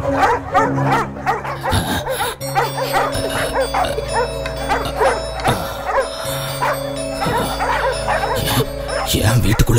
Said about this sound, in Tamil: ஏன் வீட்டுக்குள்ள எப்படி நாய் வந்தது?